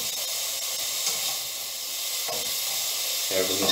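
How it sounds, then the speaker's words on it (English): Diced pancetta sizzles steadily in a frying pan over moderate heat, a close, continuous hiss with faint crackles and a brief clink near the end. "the pancetta cooks very, very quickly as well"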